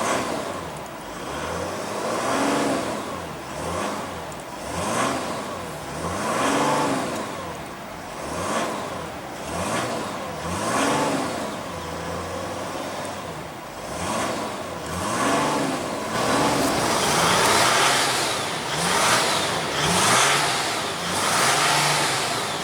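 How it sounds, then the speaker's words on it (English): A 2015 Mercedes-Benz GL350 with a 3.0 L diesel V6 revs repeatedly in close succession, each throttle blip rising and falling in pitch, then holds a louder sustained rev near the end. "let's go ahead and rev up this monster and see what kind of soundtrack she makes"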